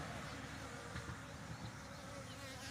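A small, newly split-off honeybee swarm gathers at the front of a bait hive box, giving a steady, dense buzzing hum close by that holds evenly throughout with no voices.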